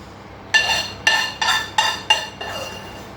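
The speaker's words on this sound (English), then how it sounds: "I'm going to drop 2, 3, 4, 5 of the meatballs on top" Five meatballs land one after another in a bowl of turmeric rice soup, five crisp clinking knocks against the bowl spaced about half a second apart, the last one softer, heard close up with no talking.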